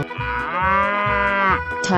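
A cow moos in a 3D animal slide video game, one long, loud, drawn-out low call that sits close and clear with nothing else behind it.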